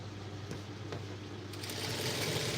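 A sewing machine stitches blouse fabric in a steady, continuous mechanical whir with a faint rhythmic clatter, close and even throughout, with no talking.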